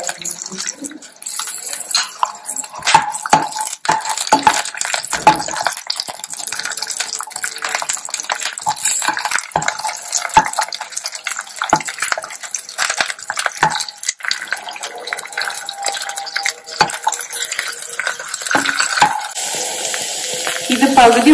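Green chilli, ginger, cinnamon and garlic frying in oil in a pressure cooker, a bright steady sizzle with frequent sharp clatters of stirring against the metal.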